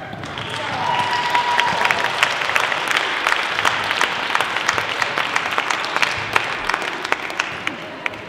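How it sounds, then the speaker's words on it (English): A youth summit audience breaks into loud sustained applause, dense clapping with sharp individual claps standing out and faint crowd voices mixed in, following chanted call-and-response. "How about another round of applause?"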